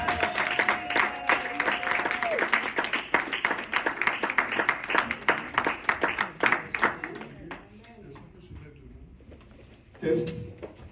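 Church congregation clapping together in a steady, dense rhythm with cheering voices mixed in. The applause is loud and sustained for about seven seconds, then thins out and fades, with a brief burst of sound near the end.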